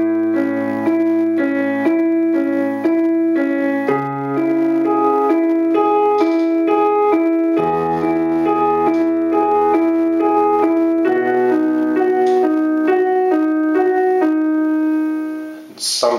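Piano playing the chords of a song, sustained chords changing every few seconds with a steady bass note underneath, loud and alone, ending with a short fade.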